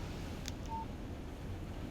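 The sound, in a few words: phone text message alert in video game Alan Wake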